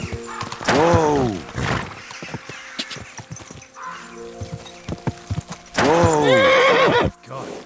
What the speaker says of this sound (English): God, that looks like a bloody expensive horse